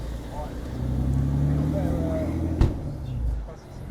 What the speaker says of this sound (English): Check out what just drove by. A Clio